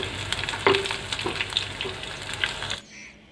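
Pieces of Bombay duck fish fry in hot oil with a steady broadband sizzle and a few clinks, cutting off abruptly near the end to quiet.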